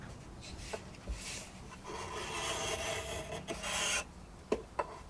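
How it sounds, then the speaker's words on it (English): A small hand planer shaving wood, with a raspy scraping rasp of blade on timber in several strokes, a longer sustained pass in the middle, and a few short sharp knocks near the end, close and moderately loud. "Then we come to planing"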